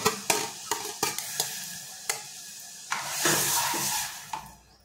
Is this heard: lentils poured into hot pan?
yes